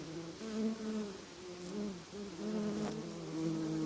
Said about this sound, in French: L'abeille vient puiser une goutte de miel au fond de chacune de ses petites fleurs.